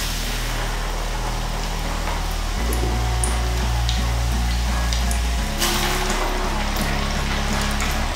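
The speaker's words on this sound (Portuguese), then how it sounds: "E agora o que eu vou fazer é fritar por imersão. Então já tô com meu óleo quente aqui e vou adicionar os meus croquetes." Potato croquettes dropped two at a time into hot oil for deep-frying, a steady loud sizzle and bubbling that swells partway through, with a low hum beneath and no talk.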